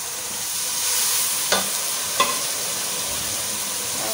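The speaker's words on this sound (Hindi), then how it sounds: "बस हम ये भूनेंगे थोड़ा सा और हम इसके अंदर डाल देंगे दाल" Boiled dal goes into a pan of frying spices and is stirred, giving a steady sizzle with two brief scraping clatters of a utensil, close by with no talk.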